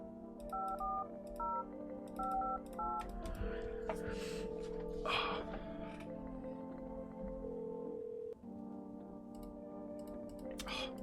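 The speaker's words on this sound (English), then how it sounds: "Let's make some phone calls here." Video game phone dialing: a series of short two-tone keypad beeps in quick bursts, followed by sustained ringback tones and faint clicks, with quiet background sound.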